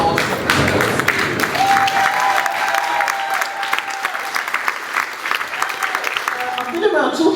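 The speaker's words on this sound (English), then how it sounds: "stand and give a huge round of applause" A standing audience at a celebration event breaks into sustained, loud applause, a dense patter of clapping lasting several seconds with a few cheers mixed in.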